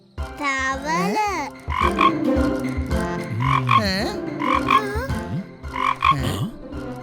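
A cartoon frog in a Tamil kids' cartoon croaks again and again in close, loud bursts with rising and falling pitch, alongside a young-sounding voice.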